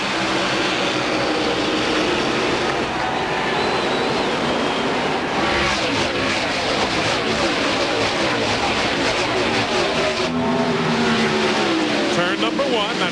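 NASCAR stock cars roaring at Pocono at the start of the 1998 Pocono 500, a loud continuous wall of engine noise with pitch sweeping as the cars pass, while a commentator talks over it.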